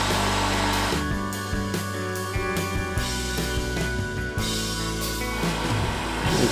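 A heat gun blows steadily while warming binding to bend it around a guitar neck, a continuous loud airy roar with a low motor hum that holds throughout with slight fluctuations.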